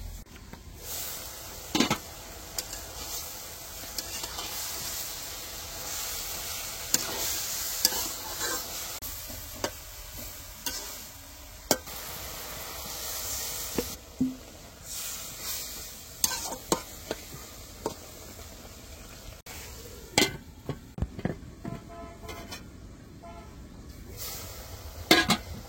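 Bathua greens being fried in a pan in a village kitchen, with repeated scraping stirs over a continuous sizzle and occasional clatter of utensils, without any speech.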